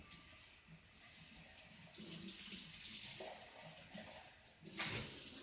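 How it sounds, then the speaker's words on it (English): Water runs and splashes as a container used for hot process olive oil soap is rinsed out in a kitchen. It is a soft, continuous flow that swells into louder sloshing near the end. "Rinse out your container."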